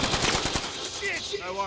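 Rapid machine-gun fire in Call of Duty Warzone, a quick burst of loud, close shots in the first half-second, then quieter game effects and a voice speaking briefly.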